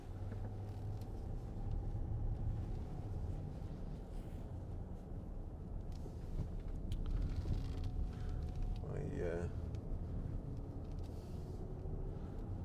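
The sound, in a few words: 2015 Range Rover SD V8 driving and slowing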